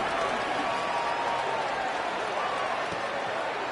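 Crowd roar from the stands in College Football 25 during a punt return, a broad steady wash of cheering and applause that runs loud and unbroken throughout, with a commentator's voice faintly underneath.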